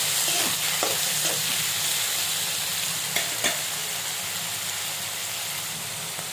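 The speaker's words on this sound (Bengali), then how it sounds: "তারপর পেঁয়াজের সাথে চিংড়ি মাছগুলা ভালো করে ভাজা লই" Shrimp frying with onions in a pan, a continuous close sizzle and hiss with occasional light stirring clicks, steady throughout with no talking.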